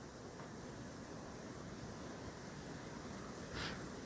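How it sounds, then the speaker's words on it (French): Continuous soft rushing of wind through tree branches, a steady hiss with a brief brighter gust near the end, no voices. "Vous entendez le vent dans les branches?"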